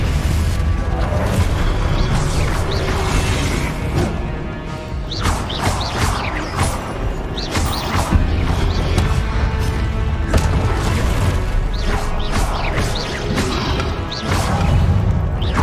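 Spell effects from the video game Hogwarts Legacy, Confringo and Expelliarmus: a dense, loud run of blasts, crashes, whooshes and thuds one after another for the whole stretch, with no talking.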